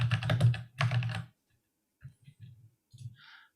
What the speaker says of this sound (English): Listen to that clear gamer, the mechanical keyboard.